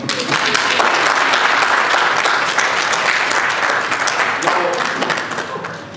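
Wedding guests clap after the ring exchange, a dense, loud burst of many hands with sharp individual claps standing out, sustained for several seconds and then easing slightly, with voices and cheers mixed in beneath.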